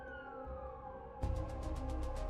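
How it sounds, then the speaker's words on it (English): An ambulance siren wails steadily through traffic noise as the vehicle speeds toward a hospital, a sustained tone that swells louder midway with repeated rising bursts. "As they sped towards the hospital, for the first time in her life, Carmen worried about losing her husband."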